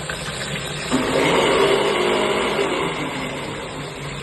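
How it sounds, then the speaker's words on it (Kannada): A mixer grinder whirs in a home kitchen in the background, a steady mechanical drone that swells a little louder after the first second and holds evenly to the end. "ಬ್ಯಾಕ್ಗ್ರೌಂಡ್ ಅಲ್ಲಿ ಮಿಕ್ಸಿ ರುಬ್ಬಿದ್ದಾರೆ"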